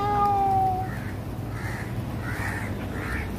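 A person imitates a crow's caw with a voice, giving four short, nasal calls spaced about half a second apart over a steady low background hum, after a brief whistling tone at the start.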